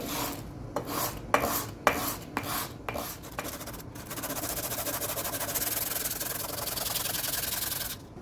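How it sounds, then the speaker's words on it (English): Forged chef knife parts are sanded flat on a block, first in several distinct rasping strokes and then in a fast continuous scrubbing rhythm, close and fairly loud with no talk. "I'm just gonna sand it on a block and try to get everything nice and flat"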